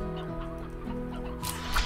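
Hens clucking in the video game Slime Rancher, a busy overlapping chorus of many birds over a steady game background hum, with a louder burst near the end.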